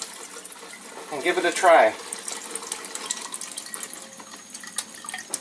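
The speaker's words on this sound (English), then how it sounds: "So now we'll make some Kangen water" An Enagic K8 Kangen water ionizer dispenses water in a short, bright splashing burst near the start, then a softer steady trickle continues while a person speaks over it.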